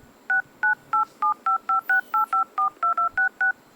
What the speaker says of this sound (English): Now you can hear the sound from the Dialpad.